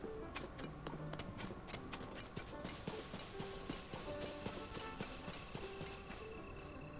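Rapid clip-clop of horse hooves in The Legend of Zelda: Tears of the Kingdom, many light taps in quick irregular rhythm, steady and close with a low game-world ambience underneath.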